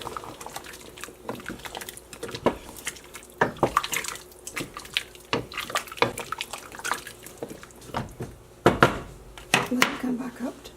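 Carrots are stirred into a simmering beef stew pot, with scattered spoon scrapes and clanks against the pot and wet splashy stirring, fairly close and irregular, while a voice talks over parts of it.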